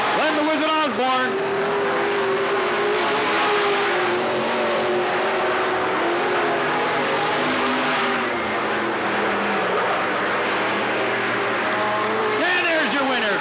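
Race cars roar around the oval at Riverside Speedway (Cottage Grove Speedway) in 1991, with loud, continuous engine drone and rising and falling revs as they pass, under steady announcer commentary over the track speakers.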